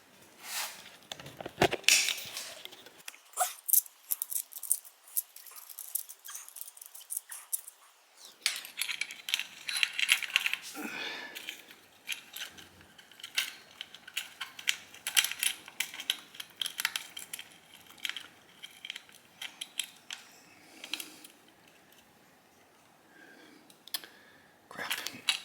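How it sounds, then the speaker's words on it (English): Metal parts click, clink and rattle close up as a cam sprocket is fitted onto a 2006 Honda CRF450R engine, irregular sharp taps and scrapes scattered across a quiet workshop background. "now we're going to put the cam sprocket on"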